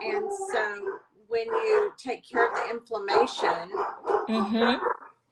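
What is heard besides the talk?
dogs barking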